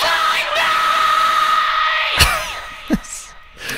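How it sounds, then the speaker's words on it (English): A raw recorded male vocal scream in a finished song mix, a sustained high strained cry over the band that rises and then breaks off, followed by shorter sharp shouts near the end. "And then at the end of this, he does this amazing scream."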